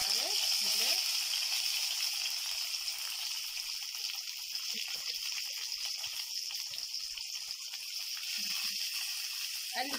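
Chopped onions fry in a mix of ghee and oil for shakshuka, giving a steady, close hiss of sizzling that runs evenly throughout with a few faint scrapes, and no talking.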